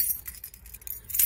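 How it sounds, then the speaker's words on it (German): Keys jangle and clink in a bunch while the right one is sought at the door of a home, close and fairly quiet with continuous small metallic rattles and a brighter burst at the end. "So, erstmal den richtigen Schlüssel finden."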